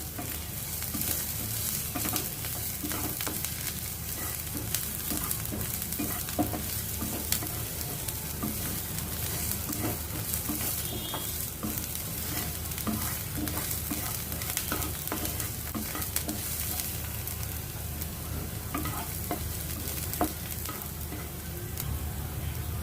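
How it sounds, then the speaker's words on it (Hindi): Onions frying in a pan over high heat, stirred now and then with a spatula, give a steady dense sizzle broken by frequent soft scraping strokes that run on without pause, close and fairly loud, with no talking. "मैं बीच बीच में साथ साथ चलाती जा रही हूँ"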